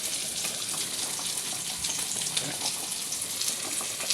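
Spice paste for fish curry sautéing in hot oil gives a dense, continuous sizzling hiss, steady and close, with small scattered crackles and a few faint stirring scrapes underneath.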